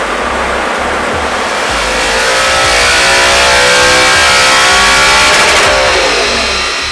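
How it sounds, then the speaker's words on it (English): A modified Audi R8 engine revs hard on a dyno, a loud continuous roar climbing in pitch over several seconds with rising harmonic whine, close and alone. "And our now modified R8 goes back onto the dyno."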